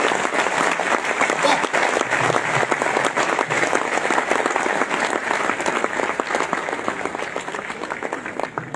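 Sustained audience applause fills a poetry and comedy performance hall at MDU Rohtak, loud and steady clapping from a large crowd throughout, easing slightly toward the end.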